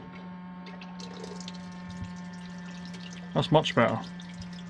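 Water running steadily from a campervan sink tap with its flow reduced by a pinched hose, a low even stream heard close, with a person speaking briefly near the end.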